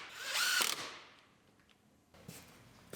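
A ratchet and power driver bolt in the filler panel under the bumper of a 2018 Ford Explorer Limited AWD: a loud whirring zip up close fades out, then a short mechanical clatter follows.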